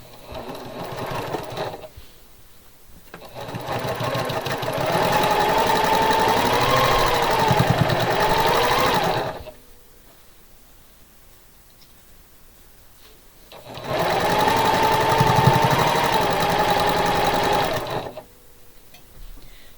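A sewing machine runs a quarter-inch seam down the center of a quilt in two long bursts of steady, close whirring stitching, each several seconds, separated by a quiet pause.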